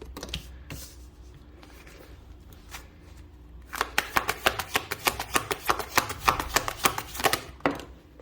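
Tarot cards being handled and shuffled from a deck, starting with a few soft slides and taps and then breaking into a rapid run of close, crisp riffling snaps that fade at the end.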